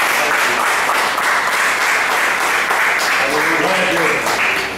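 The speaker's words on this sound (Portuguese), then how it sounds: "Você pode dar uma salva de palmas ao Senhor." A church congregation applauds in sustained, dense clapping that fills the room for several seconds, loud and steady, with voices calling out beneath it.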